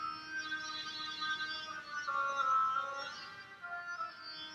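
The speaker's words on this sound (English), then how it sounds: "Let's make sure it's the duck." An oboe plays the duck's theme from Peter and the Wolf, a reedy, nasal melody of sustained and gliding notes at moderate volume, heard alone without speech.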